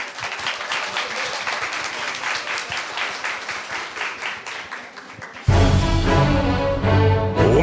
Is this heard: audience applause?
yes